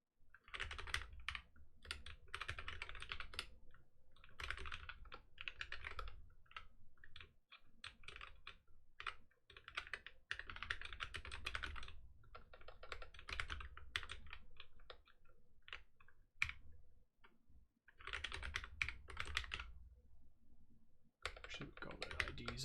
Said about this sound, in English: We're typing anyways,